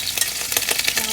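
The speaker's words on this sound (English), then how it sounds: "I'm going to add in the garlic and chili that I've actually pounded" Pounded garlic and chili hit a hot pan, giving a steady close sizzle with stirring scrapes throughout, loud and continuous.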